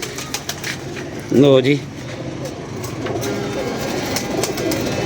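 One loud, close coo from a pigeon stands out over background chatter and a steady hum, with someone speaking briefly in the clip.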